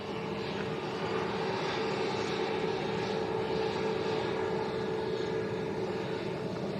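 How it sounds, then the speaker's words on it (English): A Jet2 Airbus A321 airliner rolls out along the runway at Lanzarote Arrecife Airport, giving off a steady, broadband engine roar that holds even and continuous at moderate distance with no talk over it. "So Jet 2 rolling out nice and long."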